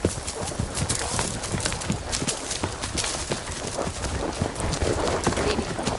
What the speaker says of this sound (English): There's horses outside.